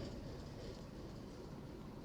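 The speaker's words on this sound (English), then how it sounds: "I see a train." A steady, dense rumble of a train rolling past in Liepaja, Latvia, faint and continuous, with a low rattling texture and no clear voices.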